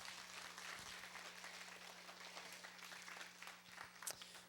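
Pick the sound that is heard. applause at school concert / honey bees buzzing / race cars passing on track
applause at school concert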